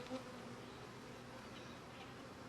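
Honey bees on a hive frame make a dense, steady buzzing hum that stays close and even throughout, with no voices.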